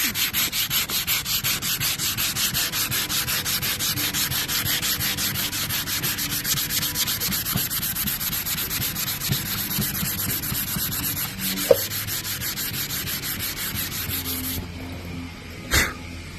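Sandpaper scrubs primer off a surface in a continuous, close, fast back-and-forth rasp that runs nearly unbroken, then stops near the end with a couple of small knocks.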